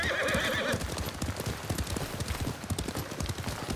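A horse neighs loudly at the start in Ghost of Tsushima, then its hooves clip-clop in a fast, steady galloping rhythm while being ridden.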